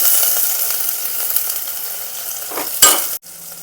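Onions go into hot oil with cumin and green chilies for a dosa dal, giving a loud, steady sizzling hiss close by, with a sharper crackling burst near the end.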